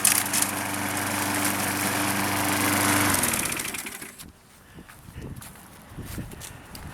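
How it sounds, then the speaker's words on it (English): A Craftsman 6.75hp lawn mower cuts a suburban lawn, its engine droning loud and close before winding down and cutting off, leaving scattered footsteps and light rustling. "there's a video of me mowing my lawn"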